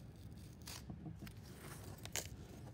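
A blade slices straight through cardboard in a few quick scraping strokes, close and quiet, with short rasping bursts.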